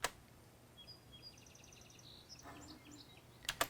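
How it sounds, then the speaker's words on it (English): Birds chirping in an outdoor ambience sound effect, faint and sparse high tweets and short trilled calls scattered over a quiet background hiss, with a couple of soft ticks at the edges. "I wanted a little more outdoorsy sound, so I just added some birds"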